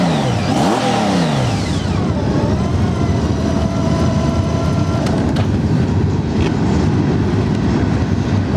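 A used Honda Goldwing GL1800 touring motorcycle engine revs up and settles in a loud, continuous, close roar with rising and falling pitch sweeps.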